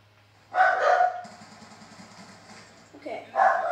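Dogs bark in bursts in the background while a gamer is playing Call of Duty, with a low engine-like hum running throughout and quieter noise between the barking fits.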